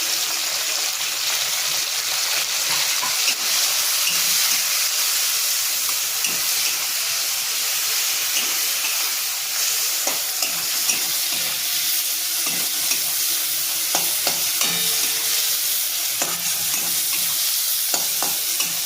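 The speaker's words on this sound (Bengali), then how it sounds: "আমার চিংড়ি মাছ ভাজা ভাজা হয়ে গেছে, বেশি ভাজবো না।" Prawns frying in a pan after onions, with steady loud sizzling throughout and scraping stirs of a spatula breaking through at intervals, no voices.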